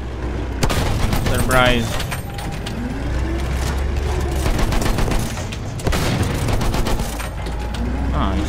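Rapid machine gun fire and booming shots in a Battlefield 1 Conquest match, a dense continuous barrage of bursts and blasts mixed with game noise, with a player talking over it.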